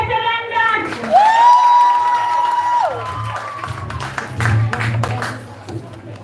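Scattered applause from a graduation audience at Comfort Hall, thin and uneven, with a sustained whistle-like tone early on and voices mixed in throughout.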